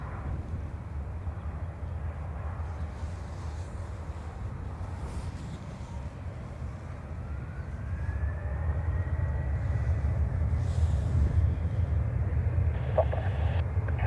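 A Ryanair airliner takes off from runway 28 right at Dublin Airport: a steady, distant broadband jet roar that swells noticeably louder about halfway through and holds.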